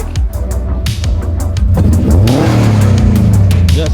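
Subaru WRX STi with a Magnaflow exhaust, close and loud as the engine blips, then rises into a sustained rev before easing off, with a burbling exhaust tone and crackles between the pulls.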